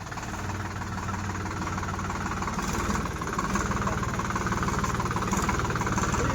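A new tractor's diesel engine runs steadily close by, a continuous loud rumbling drone with a faint knocking pulse that holds even throughout.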